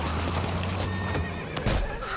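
A horse in The Walking Dead video game lets out a loud, close whinny amid a tense in-game scene, joined by clopping hooves and a dense, noisy backdrop.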